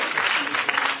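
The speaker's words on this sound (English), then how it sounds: "Please give yourself a round of applause." A brief burst of crowd applause at a community advice talk, dense clapping lasting about a second.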